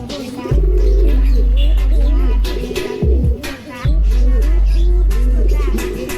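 A domestic Pakistani breed pigeon, underweight after returning home from several days away, coos nearby in low, loud, throaty rolls, three long bursts separated by brief pauses, with faint chirps in the background.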